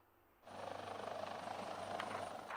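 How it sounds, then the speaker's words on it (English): A presidential helicopter landing at the State House heliport, its engine and rotor roar starting abruptly and holding loud and steady with a fast rhythmic chop, no talk. "The chopper that brought President Muhammadu Buhari from Kaduna, where he first arrived from London, touched down at the presidential heliport in the State House"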